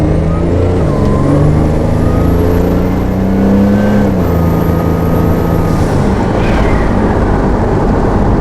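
A 4,000-pound all-wheel-drive live-axle truck drives and accelerates close by, its loud engine roar rising and shifting steadily throughout, with a faint whine over the top.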